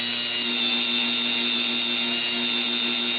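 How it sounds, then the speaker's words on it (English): An axle being polished with sandpaper and polishing compound gives a continuous even mechanical whir, like a spinning motor, that holds at a steady level for the whole short stretch. "Now I'm going to polish the axle itself."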